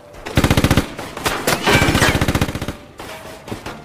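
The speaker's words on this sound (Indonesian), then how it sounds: "Di sana terjadilah aksi tembak sosolotokan antara polisi dan kedua orang itu." Rapid automatic gunfire in a film shootout between police and two men, with dense bursts of shots, a pause, then more rattling volleys that fade into scattered single shots.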